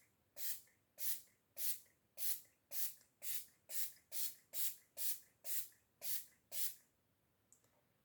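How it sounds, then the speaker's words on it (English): Makeup setting spray with hyaluronic acid is misted in about a dozen quick, evenly spaced hissing pumps, close and crisp, with quiet gaps between them. "Finish setting spray with hyaluronic acid, matte and long lasting"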